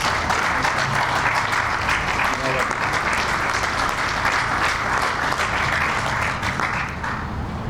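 Steady applause from an audience at a groundbreaking ceremony, welcoming Alderman Burnett to the podium, a continuous dense clapping that holds for several seconds before easing slightly.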